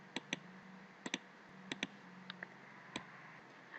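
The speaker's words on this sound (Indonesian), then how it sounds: "bisa juga dengan menekan huruf Z pada keyboard" Computer keyboard keys are tapped in a sparse, irregular run of light clicks over a steady low room hum, with no voices.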